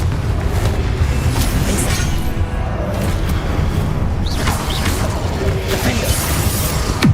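Repeated Confringo fire-spell blasts in Hogwarts Legacy, a video game, land as deep booms and crackling bursts over a continuous dense rumble of combat noise.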